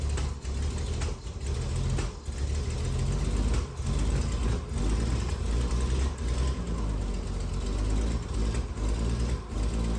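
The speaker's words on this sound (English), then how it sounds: "there is an exhaust leak from the manifold, I believe." A 1972 Triumph TR6 engine runs steadily close by, with a rough mechanical chatter and faint ticking puffs consistent with a leaking exhaust manifold, loud and continuous without talk.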